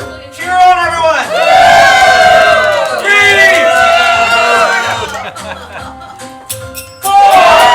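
A live game show audience cheers with loud whoops, hollers and shouting voices rising in swells. The cheering drops briefly near the end before another loud burst.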